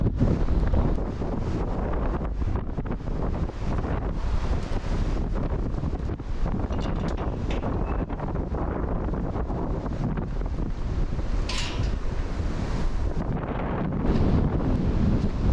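Heavy wind on the Gritstone Trail in East Cheshire buffets the microphone continuously, a loud rumbling roar with gusty swells throughout.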